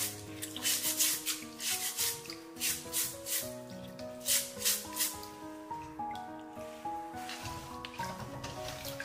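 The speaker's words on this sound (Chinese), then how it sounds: "先把芋头用刷子给它多刷几遍，把上面的泥沙给它刷洗干净。" Taro root scrubbed with a brush to clear off mud and grit, heard as rhythmic, close rasping strokes repeating roughly twice a second over steady background music, with no talk.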